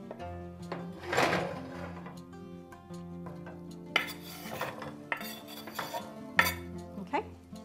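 A metal utensil clinks and scrapes against a frying pan holding garlic and chili as chopped white fish fillet and ingredients are added and stirred, close and sharp, over a steady musical tone.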